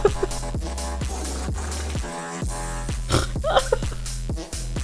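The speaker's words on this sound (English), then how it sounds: "You guys have been farting in my ear with the fucking fart reverb" A stream alert's reverb-soaked fart sound effect plays as a long, buzzy, stuttering rasp with rhythmic pulses, loud and echoing, repeating in quick bursts for several seconds.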